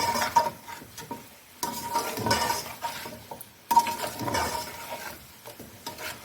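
Chicken with ginger garlic paste sautéing in ghee over a low to medium flame, with steady scraping and stirring against the pan, a faint sizzle, and a couple of sharp utensil clinks, close and without talk.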